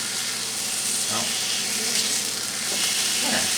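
Steak sizzles steadily in a Curtis Stone grill pan, a continuous loud frying hiss with faint scrapes of tongs against the pan now and then.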